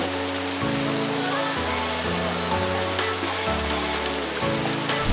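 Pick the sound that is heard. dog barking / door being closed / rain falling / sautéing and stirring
rain falling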